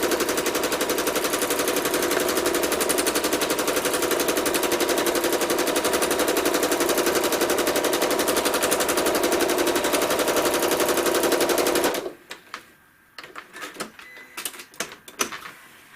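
A sewing machine stitches star and swirl patterns into an American flag quilt panel, running steadily and loud with a rapid rattling needle rhythm for about twelve seconds before stopping, leaving faint handling clicks.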